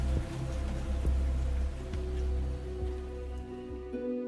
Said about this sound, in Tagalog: Malakas pa rin ang ulan ng mga sandaling iyon, Miss Ligaya.